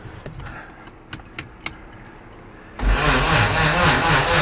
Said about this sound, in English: It's still backfiring. That starter is mad loud.